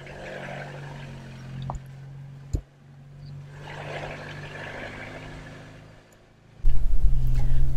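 A Jeep lurches along a bumpy back-road trail on a woodland Jeep run. Its steady low engine rumble is broken by a few sharp knocks and jolts, then swells into a loud, close roar near the end.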